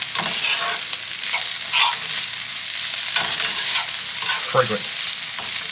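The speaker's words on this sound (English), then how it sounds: "Don't want to burn it, so I'll only be sauteing this for another few seconds" Garlic sautéing in a hot pan gives off a steady, bright sizzle, broken by occasional scraping stirs close by.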